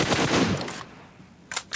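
Gunfire from the battle royale game PUBG: a dense burst of automatic shots in the first half second, a quiet stretch, then two short loud bursts near the end, with no talk.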